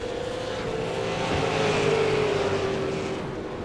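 Steady engine drone from a V8 race car in a racing video game, accelerating out of a corner at Twin Ring, loud and continuous with a rising tone that swells midway and then settles, no talking.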